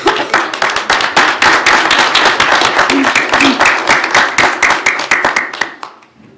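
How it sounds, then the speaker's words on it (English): A lively round of applause fills a city council chamber, many hands clapping loudly and steadily for about five seconds before tapering off. "What a round of applause."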